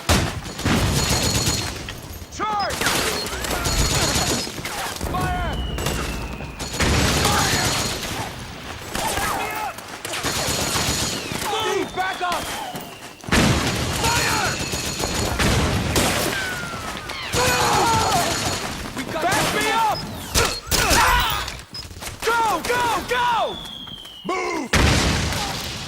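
Gunfire in the Metal Gear Solid 4 video game: repeated loud fusillades and booming bursts, with several whistling shots and impacts over a roughly 26-second battle, and shouted voices mixed in among the shooting.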